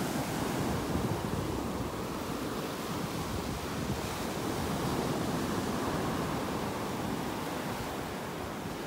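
Ocean waves rolling onto a beach in North Naples, Florida, after days of rough surf, giving a continuous broad wash of surf mixed with wind buffeting the microphone, with no voices.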